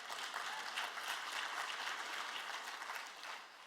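An audience at a university president's spring address applauds steadily, a dense wash of many hands clapping that holds level for several seconds, then begins to thin and fade at the end.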